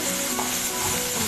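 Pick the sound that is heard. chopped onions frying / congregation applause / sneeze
chopped onions frying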